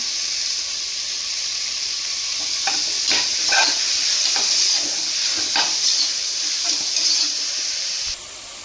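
Crushed shallots, pounded on a grinding stone, hiss and sizzle in hot oil for a goat leg soup, with scattered stirring scrapes and crackles over a steady frying sizzle that drops off at the end.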